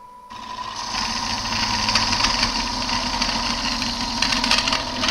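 A wood lathe spinning a gnarly crotch piece while a gouge cuts the wood, a steady whirring motor tone with a continuous scraping hiss of the cut, starting just after a brief quiet moment and holding evenly close up.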